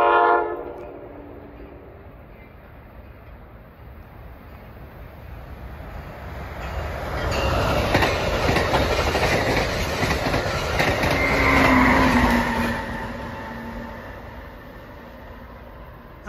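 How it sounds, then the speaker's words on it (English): An Amtrak train on the Keystone Corridor passes near Malvern, its horn sounding at the start before a long, building rumble of rolling wagons and clickety-clack wheels that peaks and then fades. "was Amtrak 654 en route from Harrisburg to New York."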